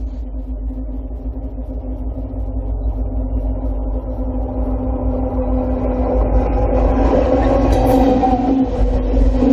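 Freight train on the Hocking Valley line rolling directly over a camera, a loud, close low rumble with steady wheel and car noise that builds and grows harsher toward the end.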